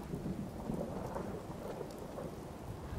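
Steady heavy rain hisses over a deep, continuous thunder rumble in a Fallout 4 thunderstorm, an even wash of sound with no voices.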